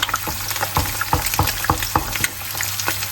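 Eggs fry sunny-side up in a pan, a continuous close sizzle broken by regular sharp crackles and pops, moderately loud with no voices.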